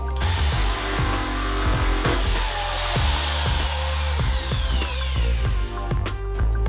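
A power tool strips paint and rust from the metal of a 1968 Mustang Fastback, running as a loud, steady whine close up with uneven grinding bursts and clatter as it works a rusty spot.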